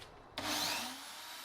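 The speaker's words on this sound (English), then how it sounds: "So I simply use my calipers and go to town on the plastic rod." Calipers scraping and shaving a plastic rod down to piston diameter, a close, steady rasping scrape that starts abruptly and carries on without a break.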